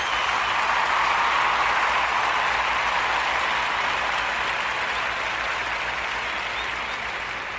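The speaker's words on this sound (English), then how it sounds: "Let's give them a round of applause" An audience breaks into loud, sustained applause, a thick even wash of clapping that fades only slightly over its length.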